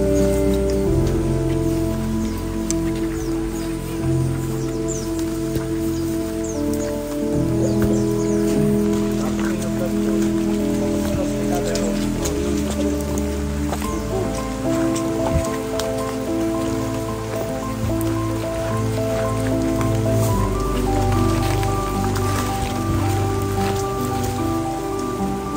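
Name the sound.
rain in the forest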